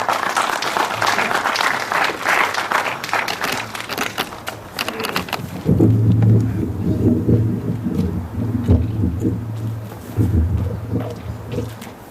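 An audience at a literary award ceremony applauds warmly to welcome a speaker. The clapping lasts about five seconds, then fades into low rumbling room noise and shuffling.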